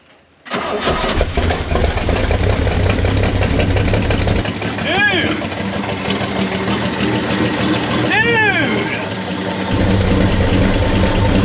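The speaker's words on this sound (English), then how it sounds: "my favorite part of a rescue is attempting that first start up" An old Chevy C30 truck's engine is cranked over on a first start attempt after decades off the road, with a loud continuous churning crank close up and brief squealing sweeps partway through.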